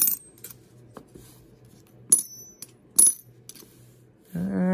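A 1959 Greek 10 drachma coin is dropped onto a hard surface, ringing out in several bright metallic clinks and bounces before a louder tone takes over at the end.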